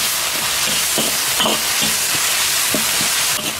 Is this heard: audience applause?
no